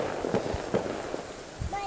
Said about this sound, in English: there's some loud fireworks too